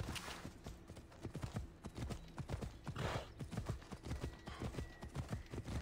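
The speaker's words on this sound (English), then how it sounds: "And he's going to get on this horse." A horse's hooves clip-clop steadily at a walking pace in the video game Assassin's Creed Odyssey, close and fairly loud, with a faint whinny and no talk.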